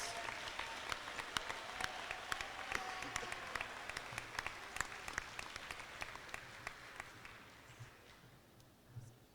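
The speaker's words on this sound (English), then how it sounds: "Let's give a big round of applause and congratulations to all our MIAC Academic" Applause at an awards ceremony honoring academic all-conference student athletes: a steady wash of many hands clapping across the room, with sharper individual claps standing out, tapering slightly near the end.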